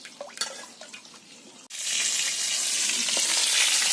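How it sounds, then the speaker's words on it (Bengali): Papad dropped into hot oil in a village kitchen bursts into a loud, steady sizzle that continues to the end, after a quieter opening of small clinks and handling noises. "ওইদিকে আম্মু পাপড় ভেজে নিচ্ছে"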